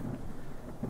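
Low rumbling thunder with a steady wash of rain rolls through a swamp area in the video game ARK Survival Evolved, a continuous murmur with no distinct crack.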